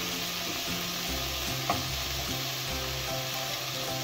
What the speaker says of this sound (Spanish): Y tengo acá el ají especial. Entonces también lo voy a echar ahí un costadito para que se pueda dorar